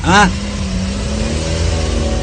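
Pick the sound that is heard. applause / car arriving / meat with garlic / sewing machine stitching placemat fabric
car arriving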